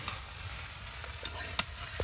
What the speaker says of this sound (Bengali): ডিমগুলো এখন উলট পালট করে নিলেই আলু দিয়ে ডিম ভুনা বা ডিম ভাজা বিরিয়ানি হয়ে গেল